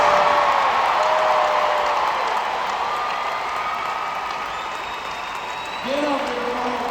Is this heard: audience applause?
yes